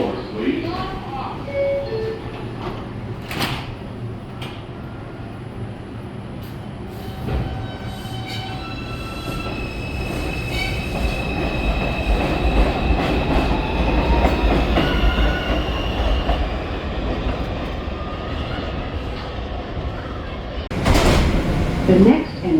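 A New York City subway 5 train bound for New Lots Avenue rumbles and rattles along the tracks, its motor whine rising and falling, while a voice speaks over the noise.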